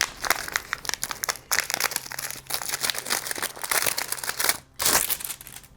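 A plain white paper envelope being opened gives close, loud crinkling, tearing and rustling of paper throughout, with a sharper rip near the end.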